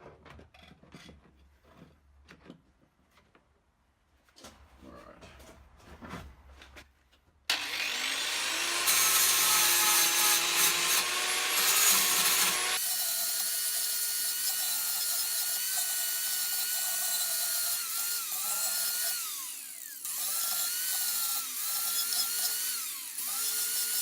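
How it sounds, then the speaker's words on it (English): A handheld angle grinder smooths the top of a homemade metal forge held in a vise. A few quiet scrapes come first, then the disc whines up loud and grinds continuously at close range, with its pitch wavering as pressure changes. "I can get a better shot with the angle grinder, because I'm just going to smooth down the top."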